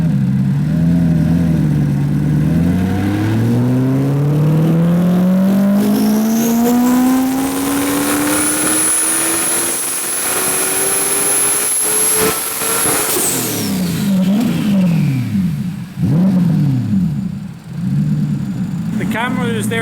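A boosted drift car engine pulls on a dyno, loud and close, its pitch climbing steadily for about twelve seconds to a high whine, then dropping sharply and settling into lower rumbling revs, with voices heard faintly underneath.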